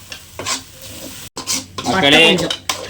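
A spoon scrapes and stirs masala in a pan for a Tamil-style egg curry (muttai kuzhambu), with several rasping strokes and a sizzling burst partway through, loud and close.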